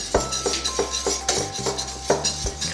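A whisk clinks and scrapes against a bowl while mixing dry ingredients for vegan, oil-free, gluten-free chocolate chip cookie dough, with a steady series of close, bright metallic taps in an irregular rhythm and no voices.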